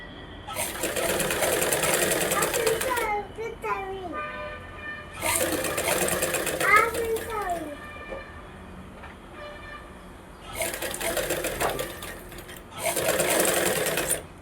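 A sewing machine runs in several loud bursts of rapid stitching on a blouse lining, separated by quieter gaps with squeaky, whining sounds.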